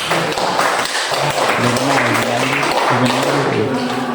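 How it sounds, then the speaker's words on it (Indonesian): An eighth-grade classroom bursts into loud, busy clapping for a student who has just answered. It stays close and steady throughout, with students' voices chattering over it. "berikan dulu tepuk tangan buat dia"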